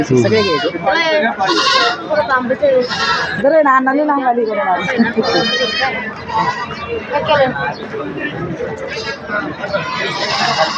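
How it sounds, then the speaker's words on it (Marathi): Kathiawari goats bleat repeatedly at a busy livestock market in Shirur, Pune district, their cries overlapping amid crowd chatter and nearby voices. "इथे या सगळ्या शेळ्या विक्रीसाठी आहेत काठेवाडीच्या आहेत"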